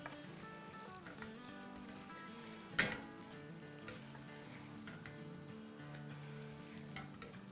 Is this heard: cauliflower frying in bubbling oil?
yes